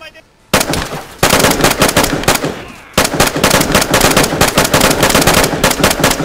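Sustained rapid gunfire from a player shooting another player in the DayZ standalone beta, loud and close, with one short break before the bursts start again.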